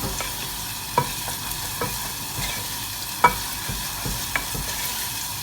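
Onion sweating in a pan for prawn risotto, a steady soft sizzle with occasional light utensil clicks, close and alone.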